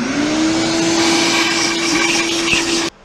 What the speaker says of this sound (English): Need to suck that out with a vacuum, shop vac, before you put it on the boat.